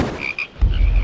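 A frog croaks loudly and close in two short, bright calls, followed by a deep rumbling croak that carries on to the end.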